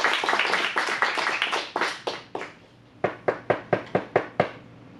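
A small audience at an adult improv class applauds a performing group: a few seconds of quick, close clapping that thins out, then a handful of separate, evenly spaced single claps ringing out near the end.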